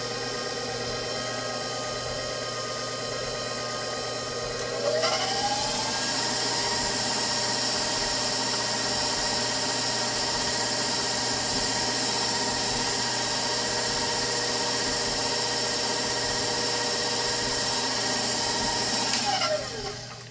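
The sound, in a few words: mixer beating eggs with creamed sugar and butter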